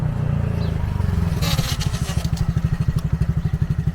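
A Honda Monkey motorcycle with a suspected rear caliper fault being ridden on a road, its engine note steady and close at first, then settling into a rapid, pulsing putter as it pulls away.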